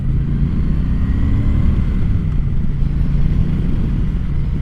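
Triumph Bonneville fitted with adventure tires rolling along a dirt gravel road, a steady low engine rumble with dense road and wind noise, continuous and close throughout.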